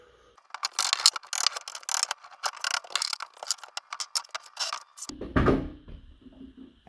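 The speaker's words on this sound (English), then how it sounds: "I'm using a small sledgehammer to persuade the wood onto the rebar" A small sledgehammer knocks wooden balusters down onto steel rebar, giving a string of close, sharp knocks and scraping rattles of a tight fit, ending in a heavier dull thud and a brief ringing tone.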